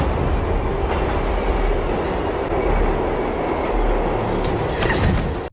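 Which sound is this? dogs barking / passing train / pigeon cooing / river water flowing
passing train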